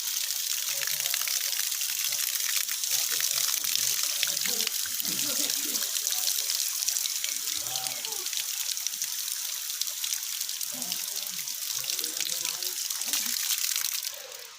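Water flowing outdoors at the three crosses of Paete, Laguna, a continuous trickling hiss that runs steadily throughout, with people talking intermittently over it.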